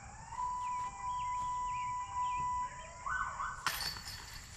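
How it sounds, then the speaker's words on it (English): Emergency vehicle sirens wail steadily in the distance outdoors at a disc golf park, a long rising and falling tone running through most of the clip before a sudden sharp clatter near the end. "I hear sirens."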